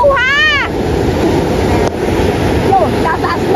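Sea waves surging and crashing along the shore of a fishing area, a steady loud wash of surf with gusting wind noise on the microphone, and a brief voice-like cry near the start.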